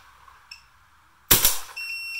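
A Free Flow paintball marker fires GI Ultra Evil paintballs: a single sharp, loud pop after a faint click, followed by a steady electronic beep tone.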